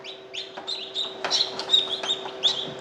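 Tiny peeps from a newly hatched chick repeat in quick, high chirps, close and fairly faint, over a low steady hum.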